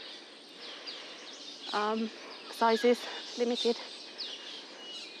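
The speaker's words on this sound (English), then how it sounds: "Wow, so many birds here." Several birds call in a mangrove at Pasir Ris, Singapore, bursts of repeated chirps and calls over steady insect-like hiss, with a person speaking briefly among them.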